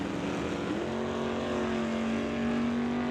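Drag race cars, an old school Oldsmobile Cutlass and a Chevy II, roaring down the strip with a loud continuous engine drone whose pitch rises steadily, no voices over the sound.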